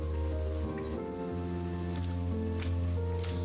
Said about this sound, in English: this patter of rain on the street creates a wordless song